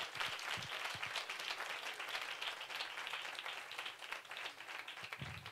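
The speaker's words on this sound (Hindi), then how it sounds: "आए खुदावंद यीशु मसीह नासरी के लिए भरपूर ताली बजाएंगे।" A church congregation at a Sunday service applauds together, a dense, sustained burst of clapping filling the hall without speech.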